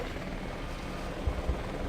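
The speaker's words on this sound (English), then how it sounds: "I'm gonna see if I can do that with a helicopter, if I can get it done by air." A helicopter in the Battlefield Vietnam video game makes a steady, dense rotor and engine rumble, moderately quiet, with a couple of faint low thumps.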